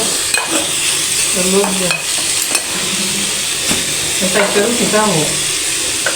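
Roti frying in a pan makes a loud, close sizzle, broken by stirring and scraping clatter and a few sharp knocks, with faint voices in the background.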